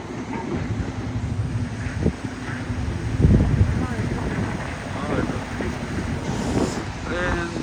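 Wind buffets the microphone in a constant low rumble on a mountain route to Manikaran, with a voice talking over it and the roar of a river rushing below nearby.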